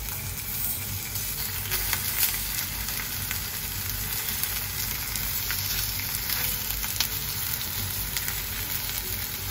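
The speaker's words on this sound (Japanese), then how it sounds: "ほいね、鶏肉を焼くよ。" Chicken pieces frying in a pan, spread out one by one while cooking a bento lunch, give a steady, dense sizzle with faint crackles throughout, close and moderately loud with no talking.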